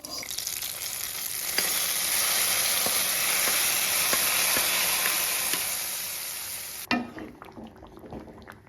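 Mustard seeds temper in hot oil with a loud, continuous sizzle and a few stirring clicks, then cut off abruptly as the tempering is poured into a jackfruit seed curry, leaving quieter crackles.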